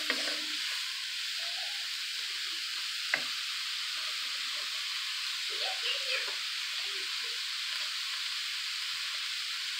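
Keto congri of black beans and cauliflower rice stirred in a hot pan, a steady even sizzle with occasional scrapes and a sharp clink of the utensil, close and with no talk.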